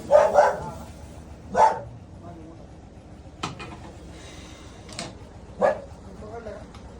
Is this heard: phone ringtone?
no